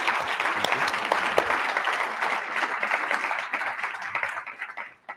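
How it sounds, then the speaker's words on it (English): Warm audience applause for a panel at the 2023 PRME Global Forum, a dense, steady wash of many hands clapping at once that holds evenly for several seconds before thinning out and dying away at the end. "I'd like you to give a warm round of applause to our fantastic panel"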